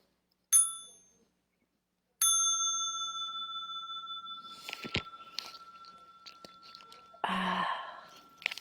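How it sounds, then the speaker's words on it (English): A small meditation bell struck twice, a first short ring fading quickly, then a second clear, sustained tone ringing on for several seconds with soft breathing and rustling beneath, ending in a louder breath. "And I'll invite the small bell for stretching and massage."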